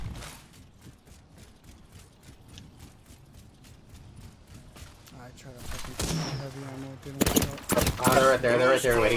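Gunfire in a battle-royale shooter game, with two enemy squads firing at once; rapid bursts of shots grow louder and denser toward the end, mixed with game effects while players talk over the action.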